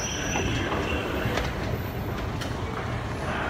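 A New York subway train moving fast, with a loud continuous roar of wheels on rails, metallic rattling and brief squeals throughout, no talk.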